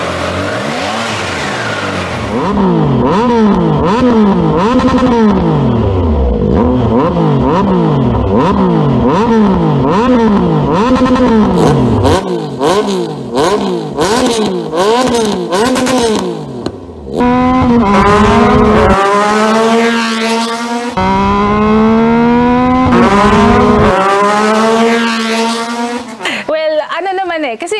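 Triumph Tiger 660 motorcycle fitted with a Zara Moto exhaust revs repeatedly, loud and close, its deep engine note climbing and falling in rapid cycles; someone talks over parts of it.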